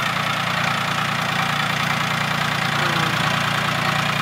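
A tractor engine idles steadily without change on a farm, a constant mid-to-low rumble with a faint knocking texture and no voices.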